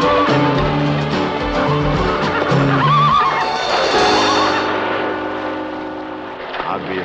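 A horse neighs loudly and close by, a long whinny rising and falling, with rumbling movement and some background noise around it.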